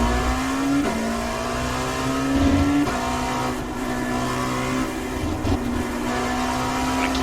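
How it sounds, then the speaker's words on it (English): A Dallara P217 LMP2 race car engine in iRacing at Circuit of the Americas, loud and steady, with its pitch dropping sharply at a few gear changes as it downshifts and climbs again. "Get up to second here, downshift back down to first."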